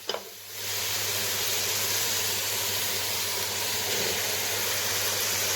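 Chopped tomatoes hit hot oil in a beef karahi cooking over high heat, setting off a loud, steady sizzle that begins after a brief quiet start and continues without a break.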